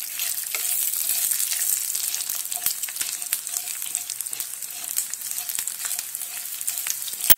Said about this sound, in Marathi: एक मोठा चमच तेल घेतलेले, आलं आणि लसूण 2 मिनिटे चांगले परतून घेऊ कमी गॅसवर